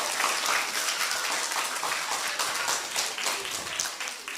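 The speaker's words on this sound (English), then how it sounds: "Can we give them a round of applause?" Dense, close applause from a room of people clapping for the children, a steady sustained patter of many hands filling the whole stretch without talk.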